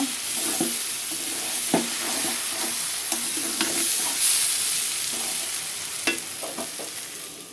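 Hot water poured over rice frying in a pan for khichuri, giving a steady broad sizzle and hiss with intermittent scraping stir knocks throughout.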